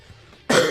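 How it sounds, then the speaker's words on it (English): A single loud, harsh cough bursts out about halfway through after near silence, close up and filling the rest of the moment. "The cough."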